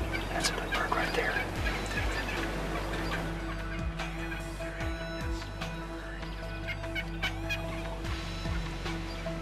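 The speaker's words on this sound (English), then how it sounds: "here comes a group of toms" Wild turkey toms gobble loudly and repeatedly nearby during a hunt, rolling calls overlapping at irregular intervals, with songbirds and scattered clucks filling the background and no voices.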